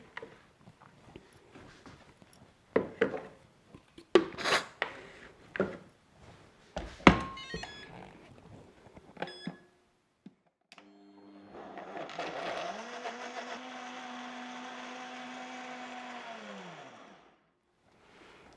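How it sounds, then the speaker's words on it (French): An electric blender runs steadily for about five seconds, mixing leftover juicer pulp into an energy-bar mixture, with a sustained motor whine that ends as it winds down, after a series of clattering kitchen handling noises. "Et ensuite, on va bien mixer."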